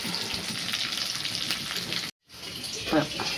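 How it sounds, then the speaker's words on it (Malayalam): Chicken frying in hot oil, a steady dense crackling sizzle up close that cuts out briefly near the middle and resumes, with a faint voice underneath. "ചിക്കനൊക്കെ നമ്മൾ വറുത്ത് കോരി വെച്ചു കേട്ടോ"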